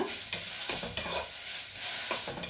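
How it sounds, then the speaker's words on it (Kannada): Large medicinal herb leaves fry in oil for a coconut tambuli-style chutney, a close, continuous sizzle broken by several sharp scrapes and clacks of a stirring spoon against the pan. "ಎಣ್ಣೆ ಒಳಗಡೆ ಬೆಂದ್ಕೊಳ್ಬೇಕು ಚೆನ್ನಾಗಿ"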